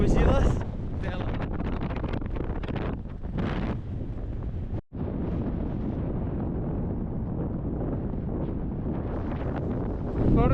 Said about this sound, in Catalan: Ha arribat un punt on el vent ja se t'emporta.